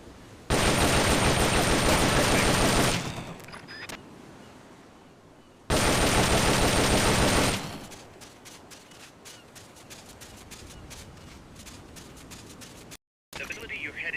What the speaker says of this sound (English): The M16 is a standard assault rifle, capable of rapid fire.